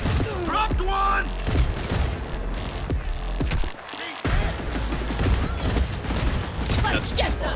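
Dense, continuous gunfire in the video game Cyberpunk 2077, with rapid shots and booms layered over one another and a brief lull midway, while a voice talks over the fighting.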